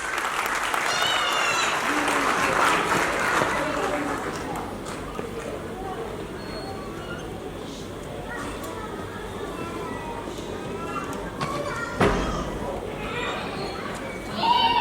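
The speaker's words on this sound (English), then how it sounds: "Parents, please be motivating them by your claps." Parents at a school class presentation applaud in a sustained wash of clapping that rises and then eases, with a voice over a loudspeaker talking through it.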